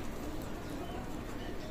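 Soft, low cooing from Pakistani teddy pigeons in a loft, a faint murmuring coo under a hiss of background noise.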